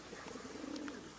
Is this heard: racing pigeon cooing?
yes